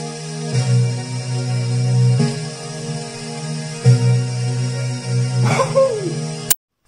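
Hip-hop beat processed with a Gross Beat halftime preset, giving a slowed, dragging feel: sustained bass tones and layered synth harmonics with soft regular pulses, ending in a rising pitch sweep and an abrupt cut to silence.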